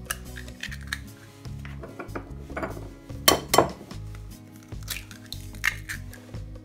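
Two eggs go into a salad bowl for a quiche Lorraine, with close clinks and knocks of shell and utensils against the bowl, two sharper cracks near the middle and softer handling sounds around them.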